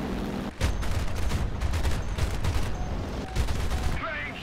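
Sustained warning bursts of aircraft gunfire in War Thunder from an A7M plane, loud rattling volleys with short gaps between them, plus a faint voice near the end.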